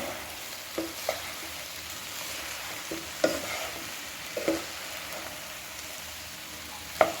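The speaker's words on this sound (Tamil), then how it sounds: "நம்ம சாதத்தை இதோட சேர்த்துக்கலாம் இதை நல்லா கிண்டிக்குவோம்" Rice with vegetables being stirred in a frying pan for egg fried rice, with soft scraping strokes and light sizzling at moderate volume, plus a few sharper clinks of the spatula against the pan spread across the clip.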